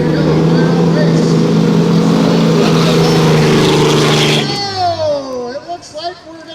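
Production drag race cars at a drag strip, their engines roaring in a steady loud drone for several seconds before the pitch sweeps downward and fades as they back off.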